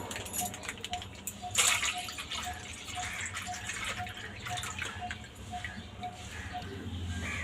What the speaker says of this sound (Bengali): দুধটা ঢেলে নিয়েছি।